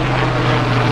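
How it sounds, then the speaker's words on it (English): A medical trauma helicopter passes overhead near a boat ramp, its steady loud rotor and engine drone with a strong low tone holding continuously throughout. "We got a helicopter coming above."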